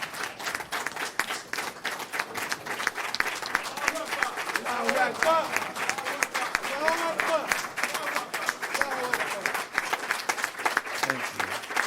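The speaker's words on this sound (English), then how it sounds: "round of applause." A crowd at a religious gathering applauds continuously, thick overlapping clapping with occasional cheers and voices rising through it, loud and sustained for the whole stretch.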